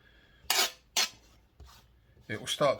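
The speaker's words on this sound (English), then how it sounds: "we're going to get that chopped there" Leafy wild greens being roughly chopped with a knife on a board while cooking with foraged mushrooms, giving a few distinct close chops spaced apart, then a quicker double cut near the end.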